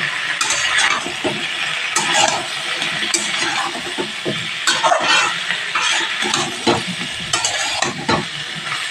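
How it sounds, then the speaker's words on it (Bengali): Vegetables, including raw pumpkin, sautéed in a pan with cumin powder, chili and salt: a steady close sizzle of frying runs throughout, broken by repeated scraping and stirring strokes of a spoon against the pan. "দিয়ে প্রত্যেকটা সবজি ভালোভাবে কষিয়ে নিতে হবে।"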